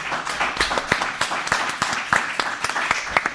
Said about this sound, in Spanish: vamos a agradecer, por supuesto, con un fuerte aplauso a nuestras panelistas